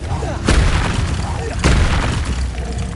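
Bombarda spell blasts in the Hogwarts Legacy video game, two loud booming explosions about a second apart over a dense, continuous layer of game battle noise.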